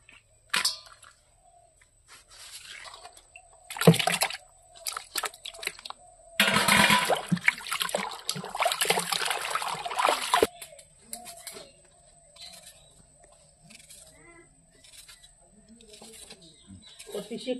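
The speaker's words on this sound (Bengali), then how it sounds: "মাছগুলো ধুয়ে আনি" Cut fish pieces being washed in water in a home kitchen, with splashing and sloshing that is strongest in the middle stretch, between quieter clinks and trickles, while a person talks over it.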